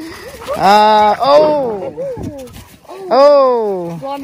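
A dog named Blondie whimpers and whines while meeting a new puppy, giving two drawn-out, pitch-bending cries close by with a few softer yelps between them.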